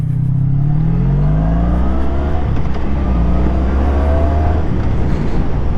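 A 1980s Honda V65 Magna motorcycle's V4 engine revs in a loud, steady drone, its pitch rising and falling gently over several seconds, close by with no talk.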